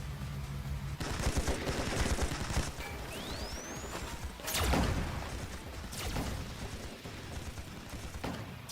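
Video game gunfire during a battle, with repeated bursts of loud shots and crashes. One rising whistling sweep cuts in, and the volume swells and drops between volleys.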